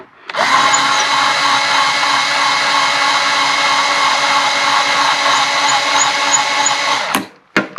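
A power case trimmer cuts brass cartridge cases for a .45 Schofield build, with a shavings bin fitted: a loud, steady high-pitched motor whine that runs for several seconds, then stops with a few short clicks.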